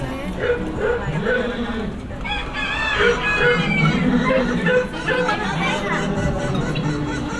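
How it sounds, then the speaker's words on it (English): Dogs bark and yip against steady background chatter on the Living with the Land ride at Epcot, with clucking fowl mixed into the noisy farm scene. "Doggy."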